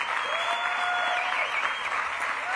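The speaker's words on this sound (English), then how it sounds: "Let's give another round of applause to all the hard workers." Audience applause at a stadium topping-out ceremony for the new Highmark Stadium in Buffalo, a steady, dense wash of clapping filling the whole stretch, with a faint tonal whistle-like line running through it.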